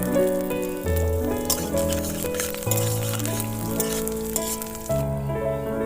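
Whole cumin, chopped garlic and ginger fry in a little oil, a bright continuous sizzle with light patter that runs under steady background music.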